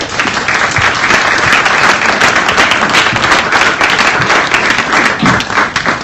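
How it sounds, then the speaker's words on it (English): Loud, dense audience applause fills a hall at a Washington, DC arts education event, a steady unbroken wash of clapping that lasts throughout with no talking over it. "Please join me in giving her a round of applause"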